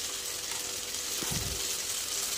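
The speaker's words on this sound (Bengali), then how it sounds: "আলুগুলো বেশ লাল লাল করে ভাজবো।" Potatoes frying in a pan, a steady broadband sizzle running throughout, with a brief stir or scrape near the middle; close and moderately loud, no talk.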